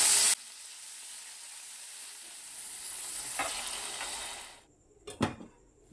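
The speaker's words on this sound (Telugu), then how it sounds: "ఈ ముక్కలు వేసుకుని ఫ్రై చేసుకోవాలి" Tomato pieces and tamarind fry in hot oil in a pan, a steady close sizzle that hisses on for several seconds, then fades and gives way to a couple of sharp stirring clanks.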